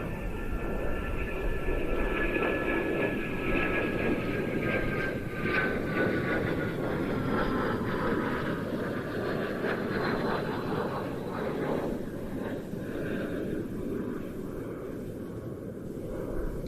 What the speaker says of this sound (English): a T346 master is coming over the top